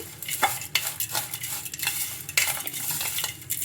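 A spoon stirs a mixture of peanuts, curry leaves and chopped coriander in a pan, giving rapid, irregular scraping and clinking strokes up close, with a soft frying sizzle underneath.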